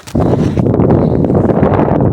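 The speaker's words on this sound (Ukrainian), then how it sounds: "Ай, вітер." A loud, blustery rumble of wind buffeting the microphone, starting abruptly and roaring steadily throughout.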